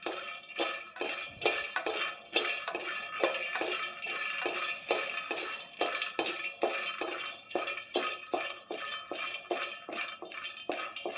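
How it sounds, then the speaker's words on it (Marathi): Roasted peanuts are scraped and poured from a pan into a dish, giving rapid repeated rattling scrapes of a spoon against metal and nuts tumbling, close and continuous. "हे मी एका डिशमध्ये काढून घेते."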